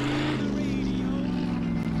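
V6 car engine exhaust in the Mafia 2 video game, a steady low droning rumble held throughout at close range, with a voice talking over it.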